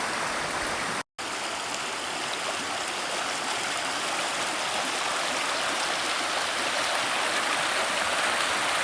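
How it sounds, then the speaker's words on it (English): A hiking-trail stream crossing near Eagle Creek rushes steadily as broadband flowing water, loud and close throughout, with a brief dropout near the start. "Well, my first water crossing of the day."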